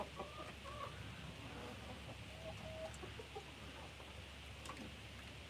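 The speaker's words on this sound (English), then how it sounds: "That is a buff Brahma, which is not really known for egg laying." A buff Brahma chicken clucks in short, scattered notes over a constant low outdoor hum, with other fowl sounds faint in the background.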